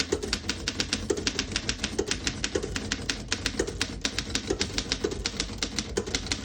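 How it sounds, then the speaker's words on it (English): Rapid, steady typing on a 1927 Underwood No. 5 vintage desktop typewriter: a close, continuous run of crisp key strikes with a heavier mechanical thump recurring about every half second, no voices. "Beautiful typing machine."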